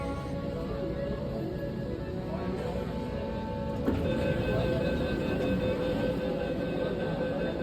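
Kolkata's underwater metro train slowing to a stop at a station, a steady loud rumble with a faint whine and a sharp clunk midway as it halts.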